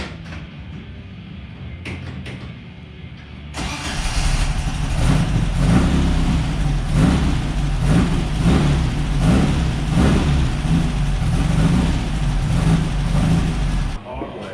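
A Baja Bug engine being started for the first time catches after a quiet few seconds, then runs loud and close with uneven revving for about ten seconds before cutting out.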